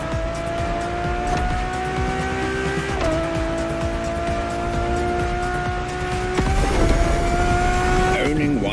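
A Ferrari Enzo from The Crew Motorfest roars at high revs with a sustained engine whine that climbs, drops briefly at gear shifts and climbs again, loud and close throughout.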